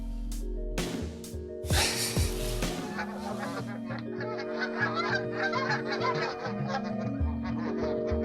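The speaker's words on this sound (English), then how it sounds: "Damn geese, shut up!" Several geese honk repeatedly in Verdi, Nevada, loud and close, a noisy overlapping chorus of harsh calls with no talking.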